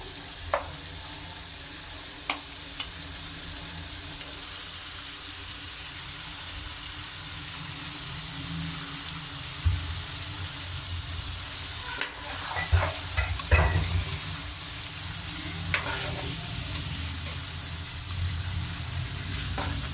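Chicken sizzles and crackles in a karahi for a creamy makhani dish while a spatula stirs and scrapes through it, a steady close frying hiss with occasional louder scrapes and clinks.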